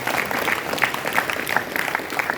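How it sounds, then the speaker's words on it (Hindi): Audience applause in a hall during a religious seminar gathering, steady dense clapping for about two seconds. "एक बार जोरदार ताली बजा"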